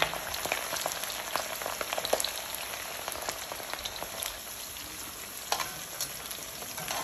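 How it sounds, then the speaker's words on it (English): Vegetables frying in hot vegetable oil in a restaurant wok for beef chow fun give a steady, close crackling sizzle with scattered sharp pops, alone and without talk. "what we call in Chinese is run these vegetables in oil first."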